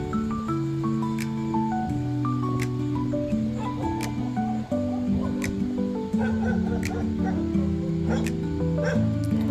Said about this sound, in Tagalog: ang daming aso din na sumalubong sa amin